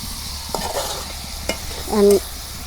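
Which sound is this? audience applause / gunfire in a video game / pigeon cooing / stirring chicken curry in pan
stirring chicken curry in pan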